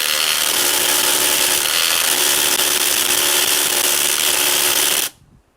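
A DeWalt impact driver drives into wood with a loud, harsh, continuous grinding hammer for about five seconds, close up, then stops abruptly into near quiet.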